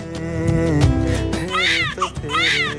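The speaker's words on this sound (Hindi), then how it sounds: "ये तो किसी बच्चे की रोने की आवाज है" Baby crying in a short comedy skit, a near, loud wail rising and falling in two or three bursts.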